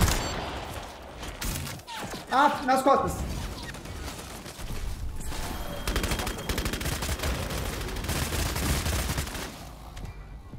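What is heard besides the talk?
gunshots in video game Bloodhunt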